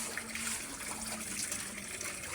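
Water poured into pig feed in a pen, a steady close rush of liquid with a bright splashy hiss lasting throughout, with no voices.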